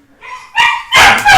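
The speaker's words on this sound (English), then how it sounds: "The dog got excited about somebody in the room" An excited dog barking indoors, several loud close barks in quick succession that rise from a softer opening whine to full sharp yaps.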